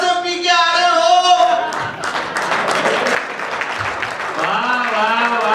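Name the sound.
audience applause at a Hindi comedy poetry show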